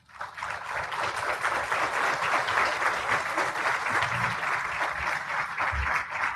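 Loud, sustained applause from a forum audience, a dense wash of clapping that swells in quickly and holds steady for several seconds.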